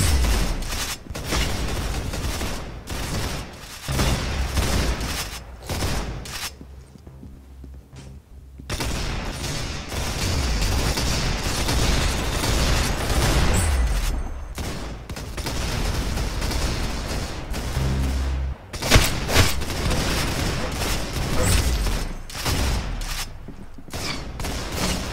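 Dense, near-continuous gunfire from the Roblox game Arsenal, rapid bursts and single shots crowding one another with a few brief lulls, loud and up close throughout.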